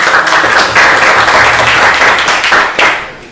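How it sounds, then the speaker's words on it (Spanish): A short burst of audience applause for a guest speaker at a film-debate event, loud and close, with many hands clapping densely before tapering off. "Un aplauso."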